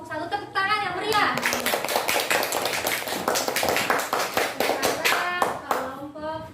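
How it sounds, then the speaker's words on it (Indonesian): Lively, rhythmic clapping from a classroom group of children, close and bright, with kids' voices calling out at the start and end around the burst of hand claps. "tepuk tangan yang meriah"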